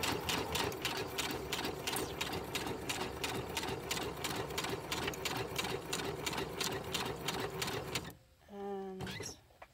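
A sewing machine stitching a paper envelope, running in a fast, steady, rhythmic clatter of needle strokes for about eight seconds, then stopping, followed by a brief whirring back-stitch burst.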